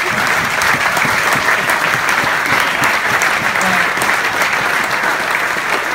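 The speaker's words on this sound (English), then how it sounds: "Big round of applause, Paul Gunn" Crowd at a cricket club event giving a big round of applause for Paul Gunn, a thick, sustained burst of many hands clapping at once, loud and continuous for several seconds.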